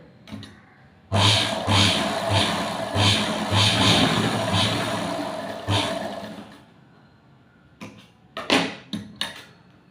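Sewing machine stitching the neckline of a blouse, one loud continuous whirring run of about five seconds with a pulsing rhythm, followed by a pause and several short bursts of stitching close by.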